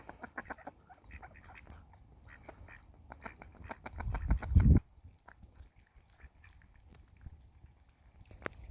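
Ducks beside a deep-water reservoir by a dam quack repeatedly in quick bursts at close range, the calls clustering into a louder flurry midway before thinning out to scattered quacks.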